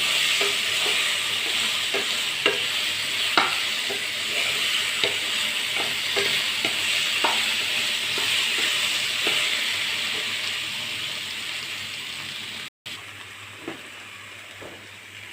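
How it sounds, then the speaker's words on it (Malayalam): Mashed banana cooks in hot ghee with a steady close sizzle. Scraping strokes from stirring repeat at irregular intervals throughout, and there is one brief break near the end. "ഈ പഴം നെയ്യിൽ കിടന്ന് ഒന്ന് ഉടയാൻ പാകത്തിനൊന്ന് തേവണം"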